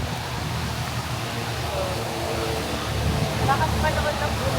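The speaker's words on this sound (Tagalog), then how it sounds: "lumalakas na yung ulan" Heavy rain pours steadily in Jerusalem, a dense broadband hiss that swells slightly louder toward the end, heard close by from shelter under a tree.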